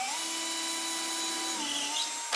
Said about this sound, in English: So what you do is the top third edge of your picture frame, you drill into it.